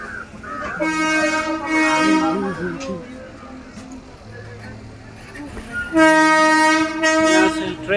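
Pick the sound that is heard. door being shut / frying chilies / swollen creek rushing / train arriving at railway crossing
train arriving at railway crossing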